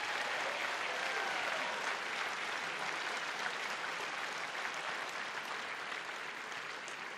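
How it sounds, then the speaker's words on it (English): A banquet crowd at a senior athletic awards night claps continuously in a large room, a steady, even wash of applause that eases slightly near the end. "Let's give all those guys a round of applause."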